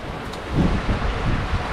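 Wind at 22 knots over the open sea around a sailing boat, a steady breathy rush with low swells of buffeting and no voices.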